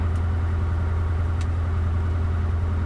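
A light aircraft's piston engine runs during pre-flight power checks, a steady low drone holding at constant loudness from start to finish.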